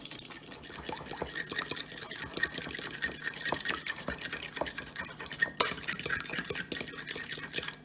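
A whisk clatters steadily through a flour and butter mixture in a bowl while making cheddar cheese buns, quick repeated scrapes and clicks running throughout, close and moderately loud, with a brief pause near the end before resuming.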